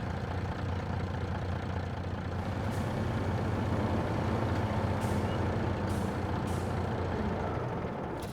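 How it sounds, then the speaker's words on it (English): A heavy truck drives in Farming Simulator 22 during forestry work, its engine a loud, steady rumble throughout with a few brief hissing air-brake bursts along the way. "So we'll have to take this truck"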